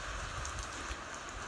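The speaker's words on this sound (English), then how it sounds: "Rain's come down heavy." Heavy rain falls outdoors in the Westland backcountry of New Zealand, a steady dense hiss of drops on surfaces with a low rumble underneath, continuous and fairly faint, with no talking.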